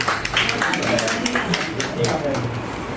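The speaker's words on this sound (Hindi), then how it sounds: "इनके लिए बहुत सी तालियां होती हैं।" Audience at an evening of poetry and music breaks into a round of clapping, moderately loud and steady, with voices mixed in beneath it.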